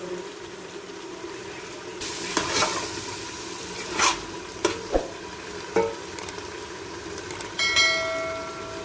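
Ojri (tripe) fries hard in added oil over a high flame, a steady broadband sizzle broken by sharp clinks and scrapes of a spoon stirring the pan, close up with no talk.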